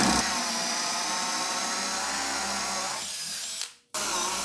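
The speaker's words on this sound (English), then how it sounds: "drill it with my 1 1/8 Forstner bit" A power drill with a 1 1/8 inch Forstner bit whirs steadily at high speed while boring holes in a control panel, then winds down and stops briefly before starting up again.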